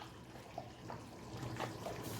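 Soaked dried bitter leaf being strained, its water running off in a soft, steady trickle with faint splashes close by for about two seconds, no voices.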